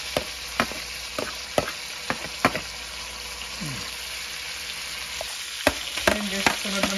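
Garlic sizzles steadily in a frying pan, a soft continuous hiss punctuated by sharp utensil clicks and taps from stirring, heard up close.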